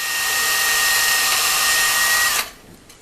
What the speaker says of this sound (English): Go ahead and drill the hole in here, enlarge what's already there.